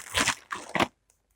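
Crinkly packaging around yarn skeins crunches and creaks in two bursts close to the mic, then falls silent.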